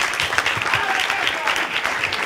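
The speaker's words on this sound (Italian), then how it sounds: "Un applauso a Francesca." Steady applause from an audience at a music institute event honouring a student named Francesca, dense clapping filling the short moment at close range with a faint murmur of voices underneath.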